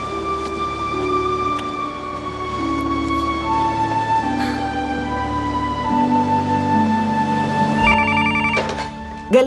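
A telephone rings indoors in a gallery, with repeated electronic ring tones sounding over sustained tonal background music, with no talk.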